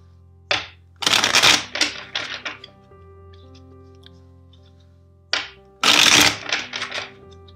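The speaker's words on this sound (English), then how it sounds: "let's shuffle the deck four times for you" A tarot deck is riffled and shuffled in two quick bursts, each a crisp flurry of fluttering snaps followed by a few taps, separated by a pause.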